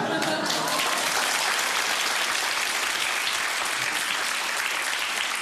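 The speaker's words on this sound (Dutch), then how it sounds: "In sommige programma's krijg ik daarvoor applaus." Studio audience applause during a Dutch comedy sketch, a steady dense wash of clapping filling the whole stretch at moderate loudness, with no talk over it.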